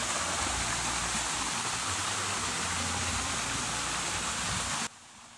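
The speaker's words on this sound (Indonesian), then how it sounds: "Suara gemericik airnya cukup menenangkan jiwa" A small mini waterfall pours with a steady gurgling rush that fills the air, then cuts abruptly to a quieter hush near the end, with no talking.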